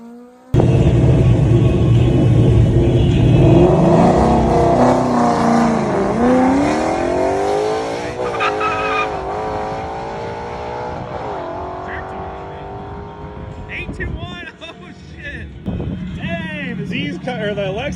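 A Lexus IS300 and a Mustang, both drift cars, rev hard and loud at close range in a sustained roar with rising and falling engine pitch, later settling to a rumbling idle, with high squeals near the end.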